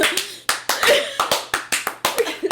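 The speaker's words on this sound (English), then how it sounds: "Slow clap for Grams." Slow clapping, with about a dozen distinct, evenly paced hand claps in a steady rhythm, close and clear, with faint voices underneath.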